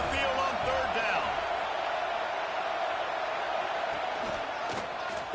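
A home crowd roars in a college football video game as the defense tries to get off the field on third down. The wash of crowd noise is steady and fairly faint, with a few sharp knocks near the end.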